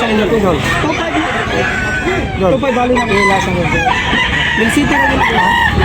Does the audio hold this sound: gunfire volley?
no